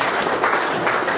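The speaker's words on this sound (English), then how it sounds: "And a big round of applause again" An audience applauds at a pole fishing prize ceremony, a dense, steady wash of clapping hands that is loud and continuous for the whole moment.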